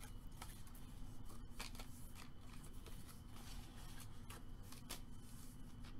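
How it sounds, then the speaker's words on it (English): Paper is folded along score lines for a handmade mini album, with soft crisp creasing and brushing strokes repeating in quick irregular bursts, close and quiet. "I'm going to go ahead and fold on my score lines."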